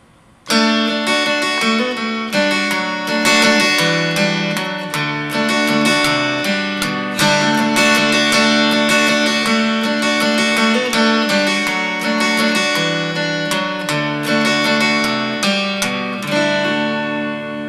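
Steady strummed guitar playing a D-chord-based melody, hitting the 4th and 3rd strings together, close and fairly loud, with continuous rhythmic strokes and ringing notes throughout.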